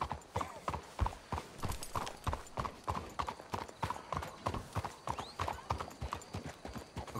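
In the video game Red Dead Redemption 2, hooves clip-clop in a steady walking rhythm, several horses plodding along close by, crisp and even, with faint background movement.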